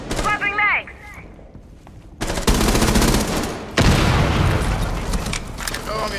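Rainbow Six Siege gunfire erupts in loud, rapid bursts after a brief spoken stretch at the start, then rattles on in sustained volleys with a second heavy burst partway through.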